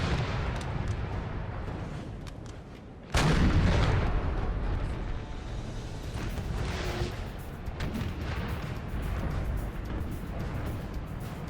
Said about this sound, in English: I wonder if this is an artillery shootout.